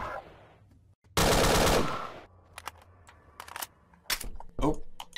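OICW rifle from a Half-Life 2 weapons mod in Garry's Mod fires one loud, dense burst of automatic fire lasting about a second, followed by scattered sharp mechanical clicks and clacks with a brief voice in the background.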